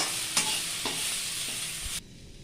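Sliced onion and crushed garlic sizzle in a hot pan, a loud close hiss with three spatula scrapes while stirring, then the frying drops off sharply.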